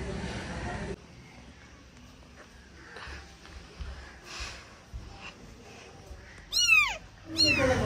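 A cat with kittens gives a couple of sharp rising meows near the end, after a stretch of quiet household background and faint talk.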